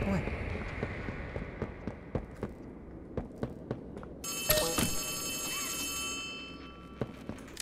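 An old-style telephone rings insistently in Poppy Playtime Chapter 3, a bright metallic trill that comes in midway over rhythmic footsteps through a dim space.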